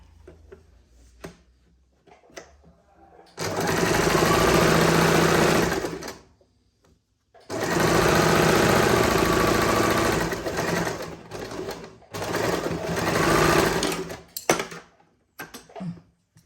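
A sewing machine stitches a saree blouse in three loud, steady runs of a few seconds each, with quiet pauses and small handling clicks between them.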